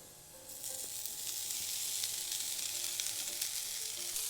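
Cooked rice hits a hot pan of garlic browned with shiitake mushrooms and scallions for egg fried rice, and a bright, steady sizzle swells up and keeps crackling close by.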